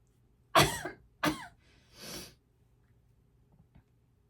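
Two sharp coughs followed by a softer breathy throat sound, close and fairly loud, from a young woman getting ready in a quiet room, with silence between and after.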